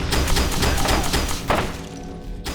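A grenade blast in the shooter game FEAR 2, arriving as a loud dense rumbling burst of combat noise with a heavy thud midway, followed by a decaying rattle and hum.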